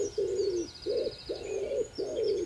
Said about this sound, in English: The pigeon's call continues, slow and familiar.